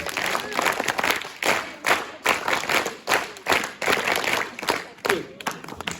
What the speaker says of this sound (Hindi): चलो ठीक है, ताली बजाएंगे।